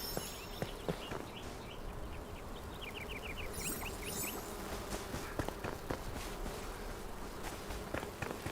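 Bees buzzing in the video game Enshrouded, a steady insect drone over outdoor ambience with soft footsteps and a few faint chirps, no talking.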